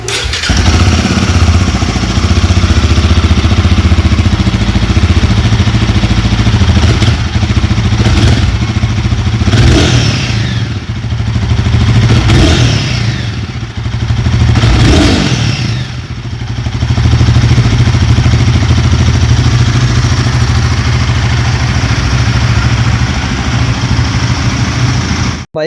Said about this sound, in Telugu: ఫైనల్ గా రాయల్ ఎన్ఫీల్డ్ గొరిల్లా 450 ఒక ఎగ్జాస్ట్ నోట్ వినే టైం అయితే వచ్చేసింది.